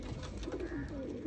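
Pigeons kept by a hobbyist coo softly in a brief, low murmuring call over a faint background hum.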